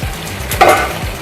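Chicken cafreal gravy cooking in a pan, a close, continuous bubbling sizzle with soft clicks and scrapes and a brief louder burst partway through, no voices.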